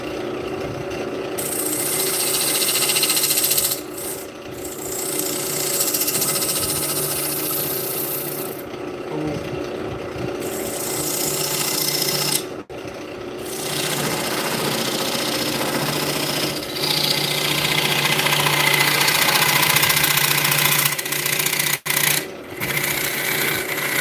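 A wooden bowl spinning on a lathe while a small detail gouge cuts it, giving a steady, loud scraping and shearing hiss that runs almost the whole time, with a few brief pauses as the tool lifts away.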